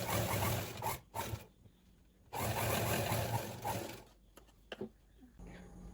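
A sewing machine stitches a silk skirt in short bursts of rapid mechanical whirring, with pauses between runs and a longer stretch in the middle, fairly close and quiet.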